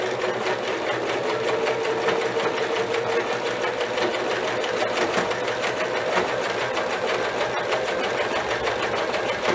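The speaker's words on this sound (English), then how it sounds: "you can actually see the sewing machine sewing 3 left and 3 right, 3 left and 3 right" A sewing machine runs a 3-step zigzag stitch on stretch fabric, its needle clattering in a fast, steady, even rhythm with a constant motor whir, close and alone for the whole stretch.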